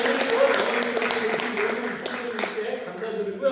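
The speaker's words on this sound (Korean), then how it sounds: "우리 박수로 해주시고요" A church congregation applauds, with moderate clapping spread through the room under a voice that keeps speaking.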